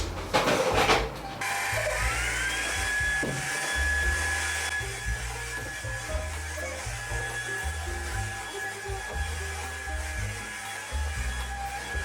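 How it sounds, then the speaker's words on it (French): A household vacuum cleaner starts up and runs steadily indoors, a loud continuous whine with a rising motor tone at start-up, close to the listener. "Attends, maman va passer l'aspirateur."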